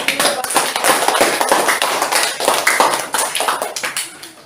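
Classroom applause breaks out after a group presentation, a dense, steady patter of many hands clapping together for several seconds, close and loud, slowly thinning toward the end.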